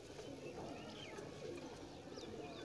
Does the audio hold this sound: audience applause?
no